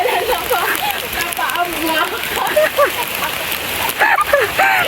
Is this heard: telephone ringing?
no